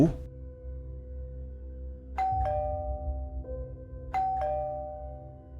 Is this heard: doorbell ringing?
yes